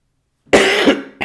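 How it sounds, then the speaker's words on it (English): A harsh, close cough comes after a moment of silence, one long rasping burst with a second shorter one right behind it. "Sorry, I couldn't press mute in time for that cough."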